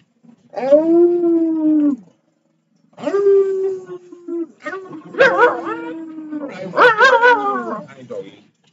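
A puppy howls and whimpers close by in four drawn-out, wavering cries with short silences between them, the later ones rising and breaking into higher yips.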